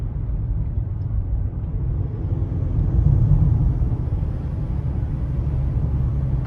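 A Toyota Corolla Hybrid accelerates, heard from inside as a steady low rumble of engine and road noise that swells a little midway and then holds level, with no talking.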